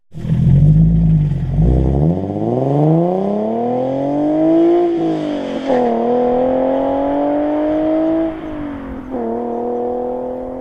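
A Nissan 370Z GT Edition accelerates at full throttle, its engine note climbing steadily through the revs, then briefly dipping and rising again at gear changes, loud and close, with no voices.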